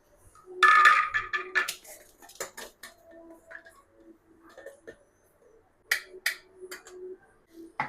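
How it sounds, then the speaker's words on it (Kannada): A metal spoon scrapes and taps against a metal sieve as hot roasted flour is sifted in a home kitchen, giving scattered clinks and rasps with pauses between them, close and fairly quiet. "ಈಗ ಇದನ್ನು ಈ ಜರಡಿಯಲ್ಲಿ ಜಲ್ಸ್ಕೊತಾ ಇದ್ದೀನಿ."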